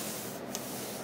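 A hand rubs the chalky, fading powder-coated top of an outdoor air conditioning unit, a faint, brief dry scuffing close to the microphone.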